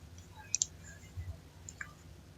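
A computer mouse clicking while navigating the Windows registry editor, with a quick double click followed by a single faint click, close and crisp in a quiet room.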